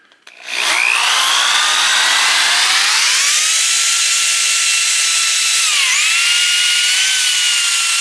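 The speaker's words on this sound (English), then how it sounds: "It's kind of a Scotch-Brite." A Scotch-Brite pad works the inside of a fork on a 1978 Kawasaki KZ1000 Z1R under restoration, producing a loud, steady, high-pitched abrasive whine that starts abruptly and runs continuously, pitch wavering slightly.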